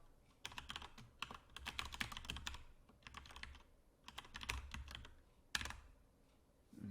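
An email address being typed on a computer keyboard during a sign-up, with quick, close clicking keystrokes in clustered bursts separated by short pauses and no talking.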